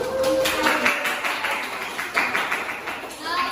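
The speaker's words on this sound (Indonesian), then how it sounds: "tepuk tangan dulu buat kelompok 1" A classroom group applauds group 1 after their presentation on Pancasila values, a steady spatter of hand claps from several students that runs the whole time with some voices over it.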